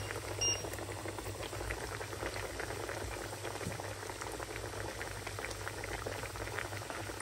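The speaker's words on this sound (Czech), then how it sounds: "No a jdeme smažit, už se tady rozpaluje olej" Breaded pork schnitzels, cordon bleu stuffed with ham and cheese, frying in hot oil in a pan, giving a steady dense bubbling sizzle throughout with no talk.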